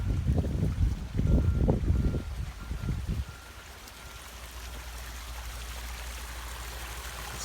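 Water sputters and splashes from a PVC pipe into a pond in uneven gushes, up close, before settling into a steady, softer flowing rush.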